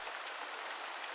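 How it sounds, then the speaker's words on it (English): Rain drums on leaves overhead on a rainy night at a campsite. It comes across as a soft, even, hissing patter, steady and fairly faint throughout. "He listened to the rhythmic drumming of raindrops on the leaves above"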